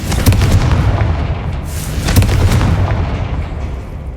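A Confringo fire spell blasts in the Hogwarts Legacy video game, a loud booming explosion with sharp cracking bursts, repeated impacts over a dense rumbling low end throughout.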